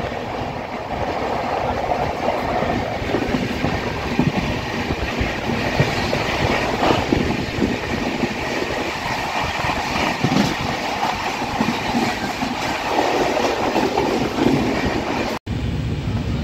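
The Howrah–Lalkuan weekly superfast express runs past Dankuni platform with a constant loud rumble of wheels and coach noise, steady clattering and faint squeals, heard from on board with no talk.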